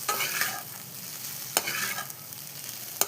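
Carrot rice is stirred in a pan on a low flame, a soft steady scraping and gentle sizzle with a few sharper spoon clicks against the pan, close by and with no voices.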